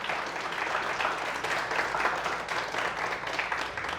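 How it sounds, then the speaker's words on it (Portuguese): An audience claps together after a spiritual talk, a steady, fairly faint patter of many hands that holds for several seconds without voices. "Merece palma, gente. Pode bater aí."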